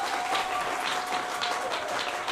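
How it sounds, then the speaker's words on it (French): A church congregation applauds steadily, a dense and even wash of clapping that carries on without a break. "Si toi, tu connais comment on applaudit pour Jésus,"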